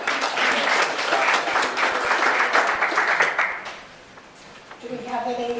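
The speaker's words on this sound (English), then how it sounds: "Let's give all the presenters a big round of applause." Meeting attendees clap for the presenters at a public meeting, a dense burst of applause that fades after about four seconds before a voice begins speaking.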